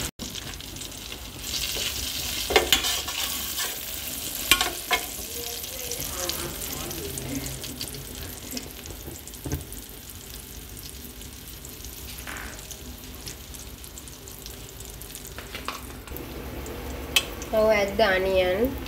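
Ingredients frying in heated butter in a pan for peanut rice, with a steady sizzle throughout, occasional stirring clatter and brief louder sputters near the end.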